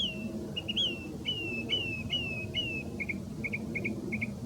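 A mimicking songbird imitates an American crow in a short run of thin, clipped calls, then switches to quick doubled chirps, moderately near over a steady low background hum.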